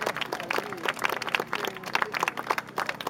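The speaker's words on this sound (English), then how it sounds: "so let's all give them a round of applause" A small outdoor crowd at an ALS charity walk gives a scattered, moderately distant round of applause for the walk coordinators, with uneven claps throughout.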